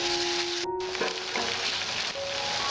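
Spice paste for Bengali prawn malai curry fries in a pan with a splash of water, giving a loud, continuous close sizzle with a few soft stirring scrapes.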